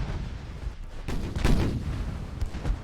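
Naval artillery from warships in Ultimate Admiral: Dreadnoughts, a heavy rumbling barrage of overlapping booms with a louder blast near the middle, continuous and dense with no voices.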